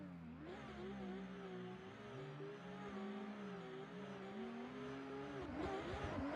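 Drift cars, a Nissan S14 and a BMW, launch off the line at the start of a battle run at Autopolis, with engines revving loudly and rising in pitch as they pull away under sustained roar.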